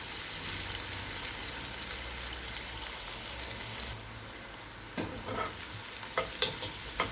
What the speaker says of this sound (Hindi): प्याज को हल्का लाइट गोल्डन ब्राउन कर लेंगे।